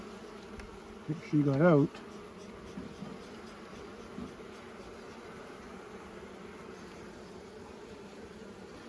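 Honeybees at an opened hive during a queen check hum in a steady, dense drone that fills the background, with a person speaking briefly over it.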